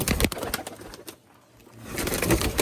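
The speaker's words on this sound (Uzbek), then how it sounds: "Ular kaptar ko'p ekan." Pigeons at a loft holding Pakistani and Tashkent breeds, their coos and wing flutters mixed with close, busy handling noise that fades briefly mid-clip before picking up again; no talk.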